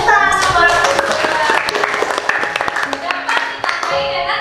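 A classroom of schoolchildren claps their hands in a burst of close, sharp claps that slows into scattered individual taps, with a few young voices talking over it.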